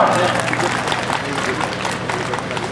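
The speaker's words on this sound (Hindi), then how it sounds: "एक बार प्यारे बच्चों जोरदार तालियां बजाएंगे।" Schoolchildren at an award ceremony clap loudly together, a thick, continuous wash of applause from a large group that holds steady from start to finish.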